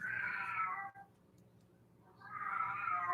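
A domestic cat meows twice, close and fairly loud, with each drawn-out cry separated by about a second of quiet.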